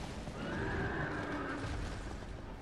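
A horse whinnies in the dark fantasy video game Dark Souls 2, a drawn-out neigh over dense, noisy game ambience, sounding moderately loud and fairly close.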